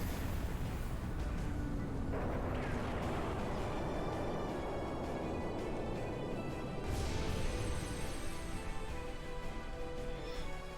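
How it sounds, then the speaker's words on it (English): A big explosion attack effect from the video game Trails in the Sky the 3rd: a sustained, dense roaring blast with crashing debris that swells again partway through, loud and continuous over a bed of game sound. "Big Explosion."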